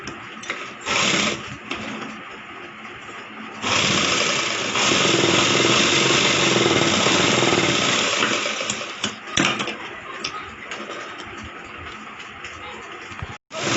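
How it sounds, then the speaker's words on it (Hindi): A sewing machine stitching a plain blouse runs in bursts: short whirring runs early on, then a long steady mechanical hum in the middle that slows and stops, with quieter handling noise between runs. "ऊपर से सिलाई लगा लेंगे हम।"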